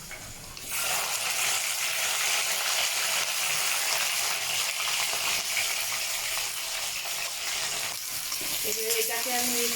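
Okra dropped into hot oil with black cumin seeds in a wok bursts into loud, dense sizzling that holds steady and close. Faint scraping and stirring sounds appear toward the end.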